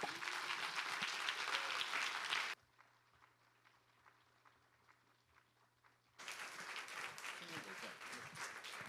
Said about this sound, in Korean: 뜨겁게 우리 환영과 격려의 박수로